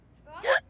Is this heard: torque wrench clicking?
no